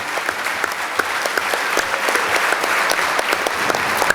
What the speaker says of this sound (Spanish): les pido un fuerte aplauso para la Red Nacional